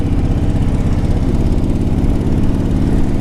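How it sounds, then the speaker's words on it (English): A 2004 Harley Davidson Ultra Classic motorcycle runs with a loud, steady low engine rumble that holds constant throughout the short stretch, with no voices over it. "It's a good running bike"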